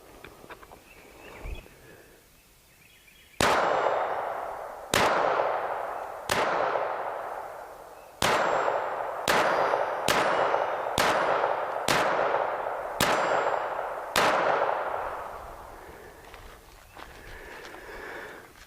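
A Walther P22 pistol firing early-1990s Federal ammunition at plate steel targets: ten sharp, fairly close shots at uneven intervals over about eleven seconds, each followed by a short ringing decay, with no talking.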